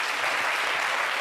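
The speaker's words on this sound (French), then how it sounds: "Applaudissements pour Imra" An audience applauds for Imra with dense, unbroken clapping, loud and close, with no voices over it.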